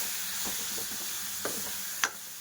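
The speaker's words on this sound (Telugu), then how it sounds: "కారం వేసుకున్న తర్వాత కూడా ఒకసారి ఇలా బాగా కలుపుకోవాలి." Okra pieces fry in a pan with chili powder, a soft steady sizzle broken by a few light scraping stirs and one sharper clink near the end.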